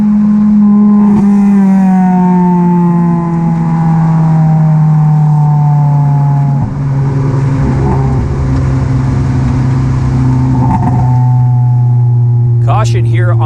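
Stock cars in a NASCAR Division III enduro race roar loudly around the track, a sustained engine drone with shifting pitch as cars pass close by, ending in a sharp clatter.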